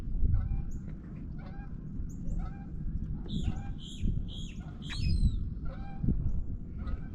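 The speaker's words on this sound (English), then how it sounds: "Look at these little birds" Small birds calling along a shoreline during a crab-fishing outing, with repeated short squawky calls scattered through the clip over a steady rumble of outdoor wind and background noise.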